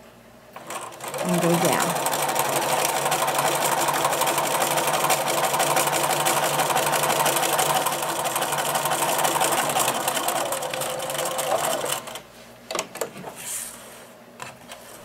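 A sewing machine runs close by for about ten seconds, stitching a seam with a 1/4 inch allowance on a simple pencil case with no zipper. The motor whirs steadily, a person speaks over it, and the machine stops before a few clicks.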